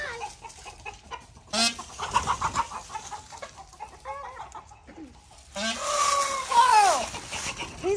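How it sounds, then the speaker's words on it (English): Farmyard chickens cluck in scattered, nervous bursts and break into a louder, drawn-out squawk near the end while a dog chases them around their enclosure. "Carl, quit chasing the chickens."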